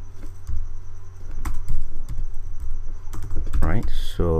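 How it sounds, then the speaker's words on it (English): Typing on a computer keyboard while entering an RHC command-line instruction, a run of close, fairly loud key clicks in an uneven rhythm with a brief rising tone near the end. "If I can type RHC"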